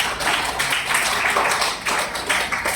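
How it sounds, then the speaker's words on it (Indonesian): A classroom of students claps for a classmate during a lesson, dense, steady and fairly close, with rhythmic pulses across the short burst and no talk over it. "tepuk tangan untuk Mas"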